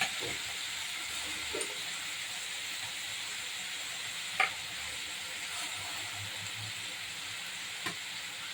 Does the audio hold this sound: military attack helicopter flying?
no